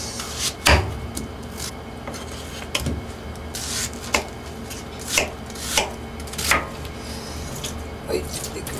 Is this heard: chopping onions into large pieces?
yes